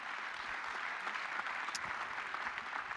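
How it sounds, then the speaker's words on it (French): An audience at a round-table discussion applauds its three speakers, a steady, fairly distant patter of many hands clapping without pause, with no talk over it. "On peut d'ailleurs applaudir également nos 3 intervenants."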